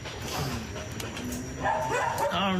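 Many abandoned dogs at a rescue site in Honduras bark, yip and whimper in a scattered chorus, some near and some farther off, with brief bursts and whines overlapping a noisy outdoor background.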